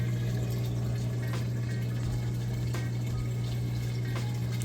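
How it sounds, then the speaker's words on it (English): A Samsung VRT top-loading washer drains water steadily out of its drum, a continuous pump hum with rushing water running unbroken and fairly close, with no talk over it. "it's draining that water out nice and fast. You can hear it draining there."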